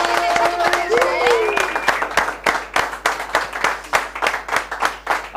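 Live audience applause at a political event, dense clapping that thins into scattered rhythmic claps, with a voice talking over the start.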